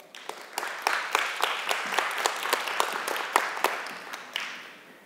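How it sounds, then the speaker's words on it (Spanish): A church congregation applauds during a Spanish-language sermon, dense clapping that swells and holds steady at moderate volume across the room before tapering off at the end, with no talk over it. "Dele un aplauso al Señor."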